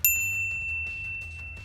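A single bright notification bell chime rings out at the start and then lingers as a clear, decaying tone over a quiet background.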